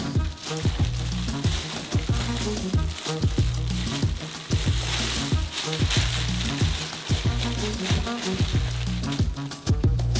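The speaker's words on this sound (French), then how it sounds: "en remuant constamment, faites fondre le chocolat" Steady sizzling and crackling from a hot saucepan of melting milk chocolate with repeated scraping strokes of a utensil stirring, continuous and close.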